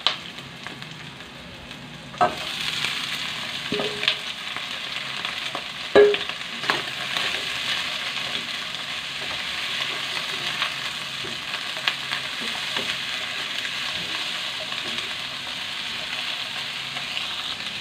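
Beef innards with garlic and ginger sizzle steadily in a hot pan, a continuous bright frying hiss broken by a few scrapes and stirring knocks, close and alone without talk.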